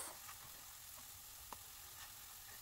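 Pork hopia dough pastries fry in a pan with a low, steady sizzle and crackle, one brief sharper pop midway, heard close and alone without any talking.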